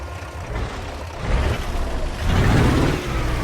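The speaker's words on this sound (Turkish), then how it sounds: "Motor sesini dinleyin abi." An old Ford truck in Euro Truck Simulator 2, a vehicle that breaks down on the road, gives a deep, continuous engine rumble that swells in loudness partway through and stays heavy to the end.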